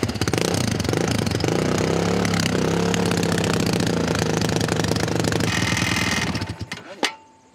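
A student formula race car engine idles on a test course, with a loud, rapid, pulsing chatter that holds steady for several seconds before cutting out abruptly.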